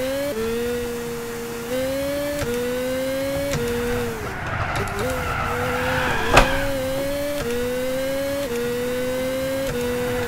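A shifter kart whines through the gears on the Autumn Ring Mini circuit in a racing game, its high engine note climbing and dropping with each shift, with a brief tire squeal midway.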